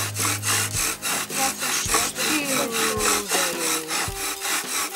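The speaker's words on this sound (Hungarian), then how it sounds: "Erre rá csavartam egy borsó féleséget, lefogom egy kővel, és elkezdtem tolni, húzni, mintha fűrészelnék." Wooden fire saw with a pea-type plant fiber wound on, pinned under a stone and rubbed back and forth, giving rhythmic rasping strokes roughly every second, close and clear with squeaky scraping tones.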